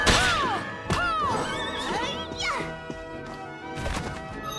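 A horse enemy in Bloodstained: Ritual of the Night gives several loud, shrill whinnies mixed with sharp impact and crash effects inside a forbidden underground waterway.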